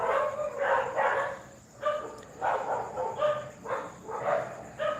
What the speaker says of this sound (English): There was 11 dogs down here on the beach today.